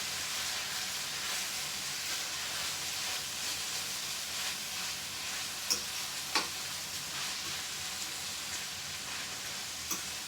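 Turnip greens sautéing in a pan give a constant soft sizzle and hiss, with a few light scraping clicks as a fork stirs them and lifts them off the bottom, fairly quiet and steady throughout.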